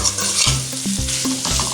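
Cauliflower stir fry sizzling and being stirred in a pan, a steady loud frying hiss with repeated scraping strokes of a spoon against the pan, close up and alone.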